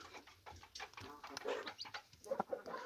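A broody Gurk hen with newly hatched chicks in a straw-lined nest, giving soft low clucks and faint peeps up close among quiet rustling, with no talk.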